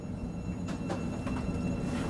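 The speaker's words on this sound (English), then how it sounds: "I appear to be moving a train." A new Thameslink train moves on a test track, giving a steady low rumble heard from on board with faint intermittent rattles and clicks, moderately loud and continuous.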